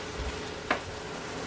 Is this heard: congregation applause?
no